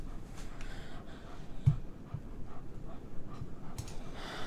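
A dog pants softly in the video game Life is Strange 2, quick rhythmic breaths over a faint outdoor game ambience, with a few light snorts and small sounds mixed in.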